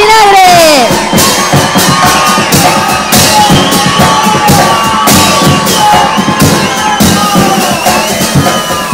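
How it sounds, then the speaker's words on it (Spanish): A large crowd at a youth murga showcase cheers and shouts loudly with continuous whoops and clapping, a dense roar that stays up close throughout. "arriba se aplauso para Morga"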